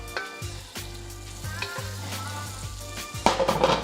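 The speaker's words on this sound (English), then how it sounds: "Just give it a little bit of oil. Just move this around. Just get everything nice and hot, nice and greased also." Oil heating in a greased pan for chicken fried rice, sizzling and crackling steadily up close with a few scraping stirs against the pan.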